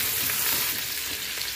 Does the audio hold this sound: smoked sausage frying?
yes